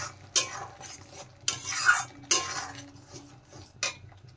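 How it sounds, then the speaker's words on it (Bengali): A spoon scrapes and clinks against a pan as masala with cashew and yogurt paste is stirred, in a few distinct bursts over a faint low sizzle. "এখন আমি কাজু আর দই পেস্ট দিয়ে দিলাম। নেড়ে চেড়ে আরেকটু ভালোভাবে কষিয়ে নেব।"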